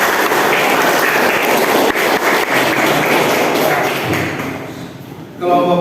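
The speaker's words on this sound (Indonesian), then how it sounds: "Beri tepuk tangan untuk" Steady applause from a classroom audience for a student group, a dense wash of clapping that holds for about four seconds, then thins and fades out near the end.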